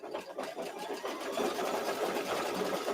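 An embroidery machine stitches the final outline on a chick design, a fast, even whirring patter of needle strokes that holds steady for a few seconds, fairly quiet and close, with no one talking.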